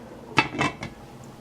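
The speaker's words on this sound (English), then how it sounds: "I am going to put the lid back on" A metal lid goes back onto a cooking pot with a few quick clinks and rattles up close, then quiet.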